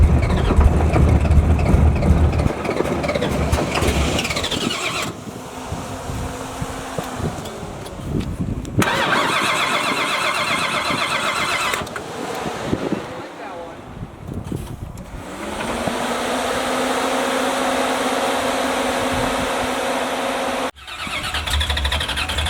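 An Oldsmobile Cutlass race car engine starts and runs at a racetrack, a loud rough idle with revs rising and falling in bursts, close up, with people talking at times over it.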